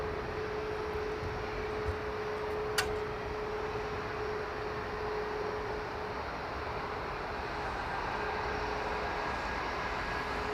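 A steady, distant Boeing 777 jet engine roar drones on evenly at London Heathrow Airport, with a faint high whine running underneath and no voices.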